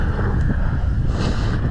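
Strong wind buffeting a microphone outdoors on a freeride mountain bike trail at Park City, a loud continuous roaring gust with no talk.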